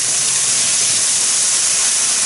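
Loud, continuous hiss of salmon marinated in Worcestershire sauce and black pepper searing in a hot pan, close and unbroken with no voices.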